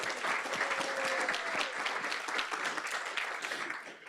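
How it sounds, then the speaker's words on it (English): A conference audience at an opening keynote applauds a corporate sponsor, with a brief burst of dense, moderately distant clapping lasting about four seconds. "Just a big round of applause just for PwC."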